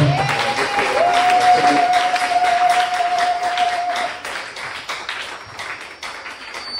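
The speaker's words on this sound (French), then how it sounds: "Les acclamations, Seigneur." A church congregation applauds and cheers in a continuous wash of clapping with a whistle-like cheer in the first seconds, loud at first and thinning toward the end.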